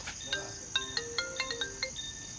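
A mobile phone plays a bright melodic ringtone of quick repeated tones, close and moderately loud, with no talk over it.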